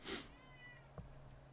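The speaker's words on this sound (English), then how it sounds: "Let me just let my cat out so he can just live his life here." A house cat lets out a short meow at the start, then softer faint vocal traces follow in a quiet indoor room.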